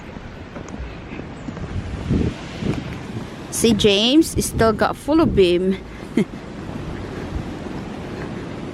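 Wind and heavy rain roar steadily outdoors on Malvern Hill, with gusty noise throughout and a person talking briefly in the middle.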